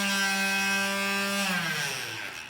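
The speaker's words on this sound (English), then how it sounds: "This is a palm sander." A handheld palm sander runs with a loud, steady electric whine that holds even, then drops in pitch and fades as it spins down near the end, heard alone without talk.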